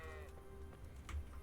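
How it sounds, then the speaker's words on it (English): A sheep bleats in the Kingdom Come video game, a short wavering bleat at the start of the clip, faint and somewhat distant, followed by a few quieter rustles and thumps. "Punching sheep in the butt."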